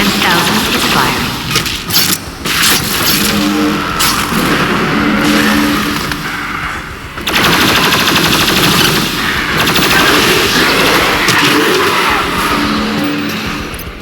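The BFG 10,000 fires in the Doom video game, with loud, dense, rapid blasts and roaring bursts, a short dip midway, then the heavy barrage resumes for the rest of the sequence.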